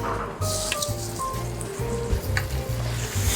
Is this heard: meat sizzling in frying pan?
yes